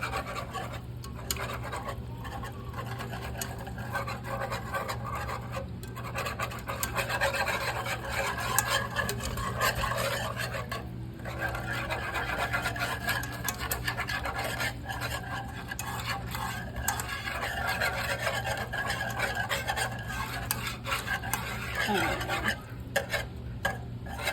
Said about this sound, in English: So now I just have to whisk it all up.